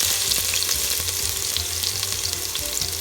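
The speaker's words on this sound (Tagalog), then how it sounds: "Tayo ay gisa-gisa na ng bawang sibuyas." Garlic and onion sauté in hot oil for chicken kaldereta, a steady loud sizzle with scattered crackles and occasional scraping stir strokes, close up and without voices.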